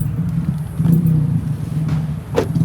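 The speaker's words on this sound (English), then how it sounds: "Every time I get outside and start videoing, there's somebody without a muffler." A passing vehicle with no muffler gives a steady, low rumbling roar outdoors that swells slightly midway and holds through the moment, with no talk over it.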